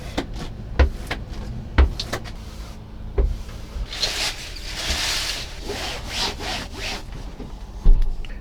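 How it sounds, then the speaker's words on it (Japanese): A hand squeegee scraping water off the wet floor of a camper van's combined shower and toilet room, giving several short rubbing strokes and scrapes with a few sharp knocks, close and fairly quiet with no talking. "このヘラで軽く水切っておきます。"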